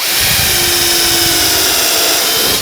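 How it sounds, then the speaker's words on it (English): A steady, high-pitched power drill whirs continuously at close range with a constant tone while re-drilling a screw hole deeper in wood, no voices. "I'm going to go ahead and re-drill this hole a little deeper"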